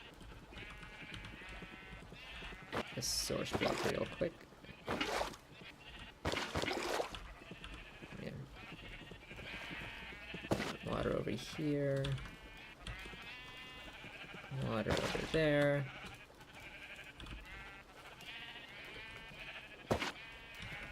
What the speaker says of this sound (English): Sheep should go down the hole, please.